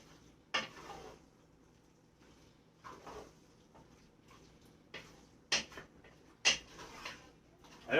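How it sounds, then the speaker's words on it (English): Portobello, spinach and boiled penne noodles being mixed together for a casserole, with a few sharp utensil clinks and soft scrapes against the dish between quiet pauses, nearby and with no talking. "And then we just want to mix this all together."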